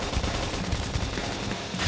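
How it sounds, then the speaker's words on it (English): Dense, continuous gunfire from a Xenoblade Chronicles X battle, with rapid low bursts layered over a steady roar of combat noise throughout. "Topple with gunfire."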